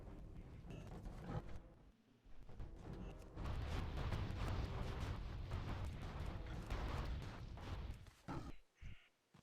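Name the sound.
mortar explosions from World of Warcraft video game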